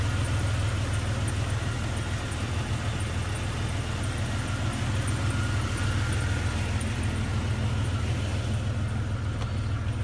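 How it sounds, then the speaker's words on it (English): A lifted Jeep Cherokee XJ Sport with stage 3+ upgrades idles with a steady, deep low rumble, close and constant throughout with no talking. "As you hear, the vehicle sounds absolutely awesome."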